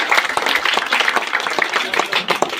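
Dense, continuous applause from a crowd welcoming visiting officers from different departments at a public gathering in Tantripura, Khanpur, steady and fairly loud throughout with no pauses.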